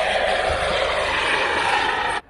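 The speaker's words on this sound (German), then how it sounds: "Guck mal, da vorne startet ein Hubschrauber." A helicopter takes off at an airfield near Wilhelmshaven, its rotor and engine roar loud and steady throughout before cutting off sharply at the end.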